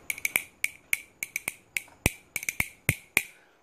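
Shaped and sanded cow femur bones played as percussion give quick, bright wooden clicks in a lively rhythm, close and crisp with no talk over them.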